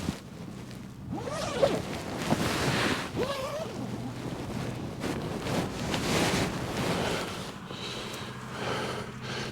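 The zips of a roof tent are pulled open in a series of repeated rasping strokes, close to the microphone, against steady outdoor wind.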